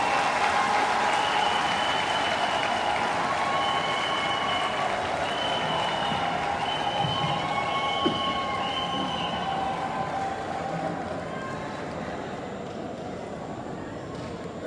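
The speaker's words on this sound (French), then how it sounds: "sous vos applaudissements" A crowd at a political investiture ceremony for municipal and regional election candidates applauds a vice-president. Sustained clapping is heard at a distance, fairly faint, with a thin tonal sound over it that fades slightly toward the end.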